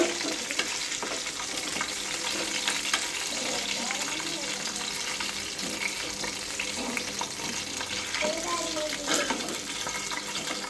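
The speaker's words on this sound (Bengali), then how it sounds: "ভালোভাবে ভেজে নেব। এই পিঠো হয়ে গেছে, সবগুলো মাংস উল্টে নেব" Pieces of country chicken (rooster) meat frying in a pan, a steady close sizzle with occasional stirring scrapes and clinks running throughout, no talk.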